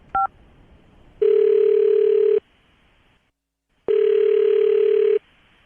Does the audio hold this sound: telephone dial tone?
yes